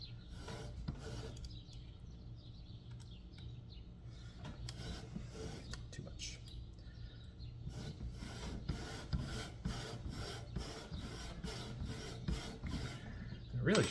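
Steady scraping and rasping of metal being hand-lapped with a lapping tool, pushed, pulled and rotated, continuous and close, growing more rhythmic and pulsing in the second half.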